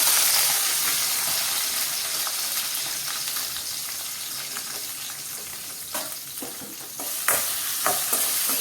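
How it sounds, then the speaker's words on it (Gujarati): Lasoda (gunda) stirred into a sizzling oil tempering with sesame seeds, hing and curry leaves, a steady close frying hiss with scraping stir strokes and a few sharper clatters near the end. "ગુંદા એડ કર્યા પછી આપણે ગુંદાને એકદમ સારી રીતે વઘારમાં મિક્સ કરીએ"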